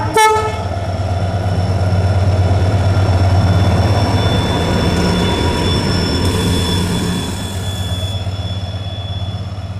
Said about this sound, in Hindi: इस ट्रेन का नाम है 14707 बीकानेर दादर वेस्टर्न रणकपुर एक्सप्रेस और ये अभी लालगढ़ से बीकानेर की तरफ जा रही है।